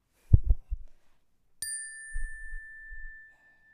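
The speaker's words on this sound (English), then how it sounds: "I'm going to go ahead and open that up with the chime." A single chime is struck to open a sacred practice, ringing with a bright, clear tone that sustains and slowly fades for nearly two seconds, with low murmured speech just before and after.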